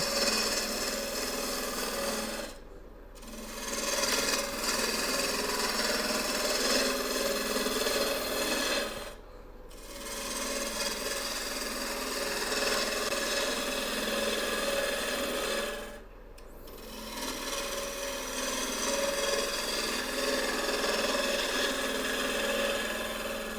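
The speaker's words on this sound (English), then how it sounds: "I'm gonna bring the lathe speed up a little bit. We're gonna bring the bottom of it down." Maple burl vase spinning on a wood lathe as a tool cuts into it, a steady continuous rasping scrape with three brief pauses where the tool lifts away, close and alone.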